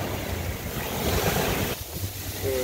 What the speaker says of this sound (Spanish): Ahí viene, viene, viene las olas.